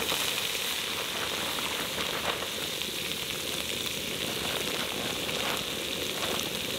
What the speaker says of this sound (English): so we would get a real nice sizzle